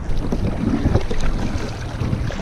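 Kayak paddling upstream on a muddy river: close, rhythmic splashing paddle strokes and water rush mixed with gusty wind noise on the microphone, with no talk.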